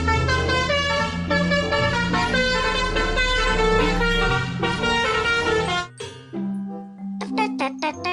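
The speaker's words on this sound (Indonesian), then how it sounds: "Bus Telolet" A toy bus telolet horn playing a bright multi-tone melodic tune, loud and sustained for several seconds, then short separate tooted notes after a brief pause.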